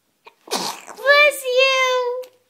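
A baby gives a single close sneeze, a quick sharp burst that runs into a drawn-out voiced vocalization, with no talk over it.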